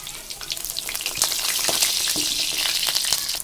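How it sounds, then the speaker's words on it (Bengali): Chhena puli pitha, dumplings made with flour and a fresh paneer filling, frying in hot oil in a home kitchen. A steady, close, bright sizzle runs throughout, with small crackling pops and no talking. "আমি তেল ছেড়ে দিয়েছি গরমও হয়ে গেছে এবার এগুলো ভাজতে হবে"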